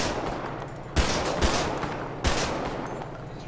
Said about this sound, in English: so I do have custom gun sounds in, as y'all can hear